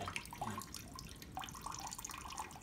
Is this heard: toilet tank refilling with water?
yes